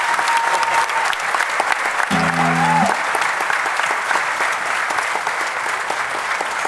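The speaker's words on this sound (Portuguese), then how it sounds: "Muito obrigado pelos calorosos aplausos" Warm, sustained applause from a carnival crowd at a Portuguese carnival group performance, a dense, steady wash of many hands clapping throughout, with a brief tonal sound and some voices briefly mixed in the middle.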